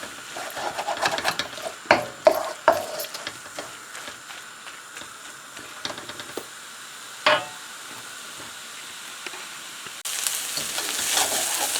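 Eggs and vegetables fry over high heat in a pan for homemade seafood egg noodles, giving a steady close sizzle broken by sharp stirring clatters and scrapes.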